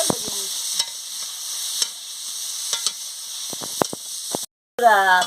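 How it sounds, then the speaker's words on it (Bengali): Cauliflower and potato pieces frying in oil, a sizzling hiss broken by sharp scraping stirs and spatula knocks, with a short gap before louder sizzle resumes. "ফুলকপি আলুটাকে ভালো করে ভেজে নিচ্ছি"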